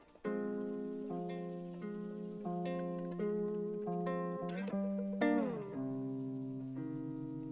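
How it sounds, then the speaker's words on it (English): Sampled classical guitar playing a slow sequence of plucked notes and chords, each ringing and sustaining into the next, clean and alone at moderate level. "basically what I've got here is a classical guitar sample that sounds like this"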